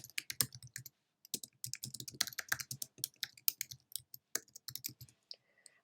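Typing on a computer keyboard while building a WordPress website, close and crisp, with irregular runs of rapid key clicks broken by a brief pause and ending in a few scattered taps.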